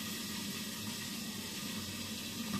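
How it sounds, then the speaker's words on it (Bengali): Running water washing polao rice for an Eid meal, a steady hissing rush that continues unbroken and fairly close, with no voices. "আর এই যে এদিকে পোলাও চালগুলো ধুয়ে ঝরা দিয়ে রাখছি"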